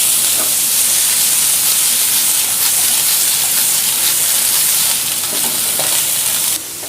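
Broccoli and Chinese sausage stir-frying in a wok, a loud steady sizzle with steam hiss and scraping stirs throughout, no talking.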